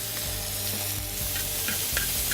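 Flank steak blackens on a FireDisc grill alongside peppers and onions, giving a loud, continuous close-up sizzle with a few soft scrapes of stirring. There is no talk.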